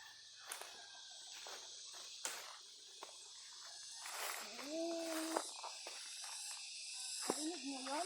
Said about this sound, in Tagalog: Narinig niyo yun? Tunog ng mga kuliglig.